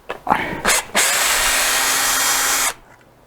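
Cordless power drill unscrewing the fixture from a woodturning bowl blank, a few short trigger blips, then one loud sustained whir of nearly two seconds that stops abruptly, close up.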